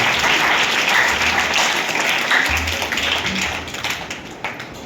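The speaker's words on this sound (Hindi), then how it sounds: "भरपूर तालियां जाकर आप सबका शुक्रिया अदा करते हैं।" A church congregation at Sunday service in St Francis Church, Alinagar, applauds loudly and steadily for several seconds, the clapping dense and sustained before tapering slightly.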